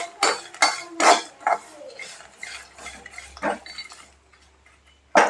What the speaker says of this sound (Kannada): ಇದನ್ನ ಡ್ರೈ ರೋಸ್ಟ್ ಮಾಡ್ಕೊಳ್ಳೋಣ